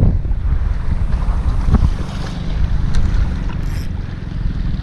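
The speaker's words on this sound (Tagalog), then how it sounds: "Ay, lakas ng hangin guys." Strong wind buffets the microphone in a constant loud roar while fishing, with gusty rumbling and faint water sounds beneath.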